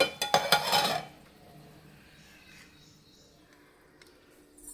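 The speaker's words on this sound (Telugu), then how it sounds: "మూత పెట్టేసుకుందాం" A lid goes onto a cooking pot of okra tamarind curry with a quick cluster of close metallic clinks and clatters in the first second, followed by a quiet, low background.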